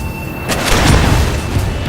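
A destroyed enemy aircraft blows up in an aerial combat video game, a loud, deep boom that swells after a brief quiet moment and rumbles on steadily to the end.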